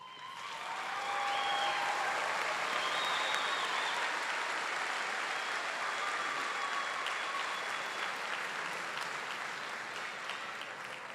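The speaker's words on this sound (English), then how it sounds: "please join me in giving them a big round of applause" A large graduation ceremony audience breaks into applause that rises within a second and holds as a broad, even roar of clapping across a big hall, slowly easing, with a few faint voices.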